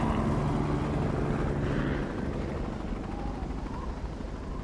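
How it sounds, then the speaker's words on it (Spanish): A rescue helicopter passes above a narrow canyon, its rotor and engine making a steady, rumbling drone that holds fairly loud throughout and eases slightly toward the end. "Un helicóptero de rescate ha pasado a pocos metros de la cima de su cañón."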